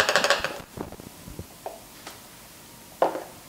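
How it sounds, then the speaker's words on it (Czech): Metal teaspoon scooping dry cleaning powder from a container, giving a few light scraping clinks and taps, close and moderately loud, then a sparse pause and one last clear clink. "Teďka naberu ten prostředek na lžičku."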